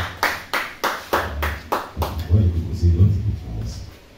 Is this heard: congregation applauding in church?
yes